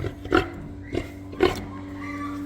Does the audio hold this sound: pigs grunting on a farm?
yes